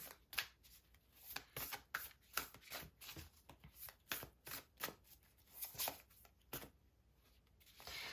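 Oracle cards are shuffled softly in quick, papery bursts that come one after another in a loose rhythm. The sound is close but quiet, with no voices.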